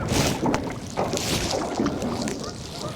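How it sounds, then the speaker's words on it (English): Strong gusty wind buffets a fishing boat out on open water, a steady roar of rushing air and microphone wind noise with louder surges, close and continuous throughout. "These gusts are like 20-something mile-an-hour winds."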